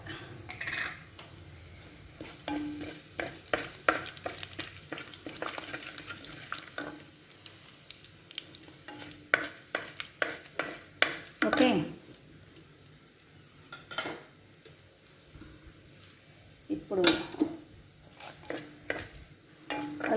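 Cumin seeds sizzling in hot oil in a pan for a chana sabji, an irregular close crackle and spatter mixed with occasional clinks of a utensil against the pan.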